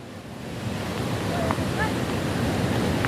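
Surf and wind roar steadily at a white sand beach, a broad continuous wash with a voice faintly present.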